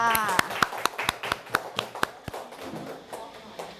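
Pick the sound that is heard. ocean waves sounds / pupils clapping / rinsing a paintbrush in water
pupils clapping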